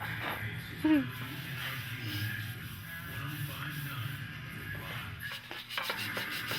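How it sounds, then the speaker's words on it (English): Rhythmic rubbing and sanding scrape on car front end body pieces from a 1937 Chrysler Imperial Roadster being prepped for primer, moderate and steady, with people talking over it throughout. "just trying to get all the front end pieces sanded down so we can get them in primer"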